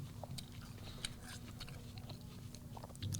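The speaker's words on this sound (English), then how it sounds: "That was a nice crunch." A hard, crisp apple being bitten into, with a few sharp crunching snaps up close over a steady low background hum, no talking.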